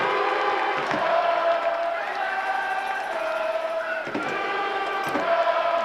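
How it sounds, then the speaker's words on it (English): Football stadium crowd roaring steadily near a late penalty kick, a dense continuous wall of cheering and chanting with a few sharp bursts, loud and sustained throughout. "I hope you can hear that crowd noise at home"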